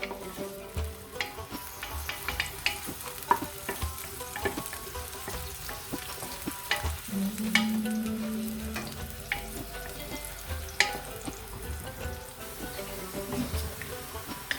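Onions frying in oil until light brown for a chana dal and lauki sabzi, a steady close sizzle with frequent scraping and clinks of a spoon stirring through the pan.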